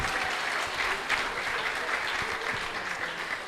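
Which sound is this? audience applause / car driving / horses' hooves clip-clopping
audience applause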